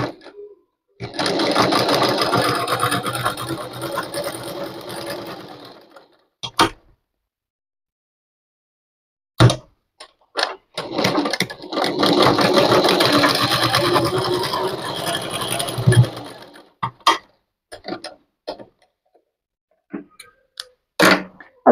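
A sewing machine stitches fabric in two long, loud mechanical runs of several seconds each, separated by pauses filled with clicks and handling knocks.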